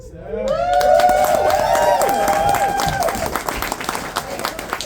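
Applause and cheering from a large comedy club audience for a stand-up comedian, loud dense clapping with whoops and shouts swelling in, then sustained and tapering slightly near the end.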